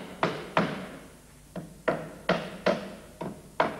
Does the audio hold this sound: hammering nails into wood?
yes